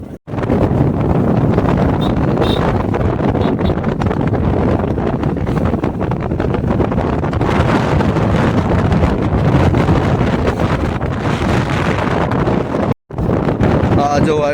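Strong wind buffeting outdoors on a village road, a loud continuous roar with gusty swells that barely lets up, close and dominant throughout.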